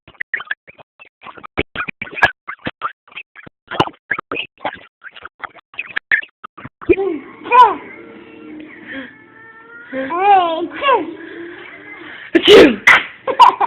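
A young child fakes a string of sneezes, vocally imitating a sneeze. Soft clicks and small noises come first, then voiced 'achoo'-like bursts and one sharp, loud sneeze near the end.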